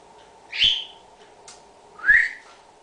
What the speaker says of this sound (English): It's really wonderful living with birds.